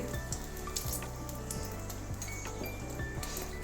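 Dry red chili pieces sizzle and crackle in hot oil in a wok, a close, steady hiss with small pops over a low hum.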